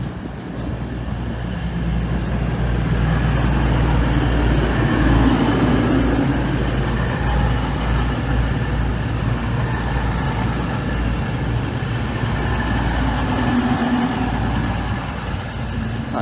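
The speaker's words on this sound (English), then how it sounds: "The 1215 East Midlands Railway service from Nottingham to London St Pancras" An East Midlands Railway train, a Class 222 unit on the Nottingham to London St Pancras service, rumbles steadily at a station with a constant diesel engine drone throughout, fairly loud and without talk.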